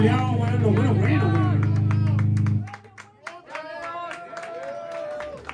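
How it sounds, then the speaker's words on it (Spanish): Scattered hand clapping from a small audience, breaking into sharp separate claps with voices and chatter around them after a stretch of loud droning music and talk. "Bueno, aplauso."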